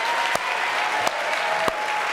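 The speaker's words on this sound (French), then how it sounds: "Applaudissements" A studio audience at a television show bursts into dense, sustained applause, with a few louder individual claps standing out at intervals.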